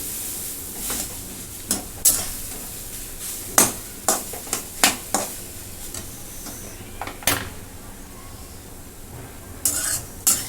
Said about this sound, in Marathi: ह्याला बिन झाकण ठेवताच असंच परतत राहायचं